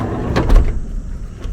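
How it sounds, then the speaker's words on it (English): A camper van's door opening, a Beluga van: a few quick clunks and a latch rattle close by, followed by a brief sliding rumble before quiet. "So we open the door like this."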